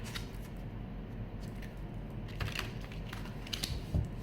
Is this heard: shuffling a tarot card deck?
yes